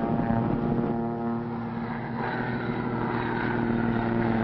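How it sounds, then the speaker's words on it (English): Propeller airplane engine droning steadily overhead in a 1940 adventure film, a loud continuous hum with no break, alone without talk. "probably Barton's plane"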